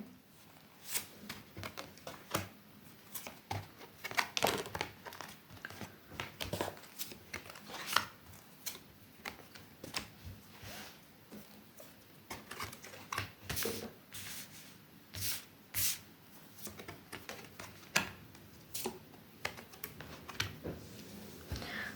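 Tarot cards are handled and shuffled for a reading, a soft, continuous run of papery riffles, slides and light taps, close and fairly quiet with no speech.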